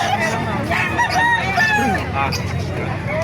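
Several roosters crow at a chicken market in Calumpit, Bulacan, their calls overlapping near and farther off, over a murmur of people talking in the background.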